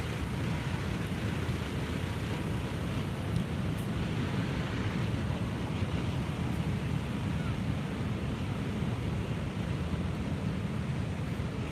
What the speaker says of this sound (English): These falls over here is the Horseshoe Falls.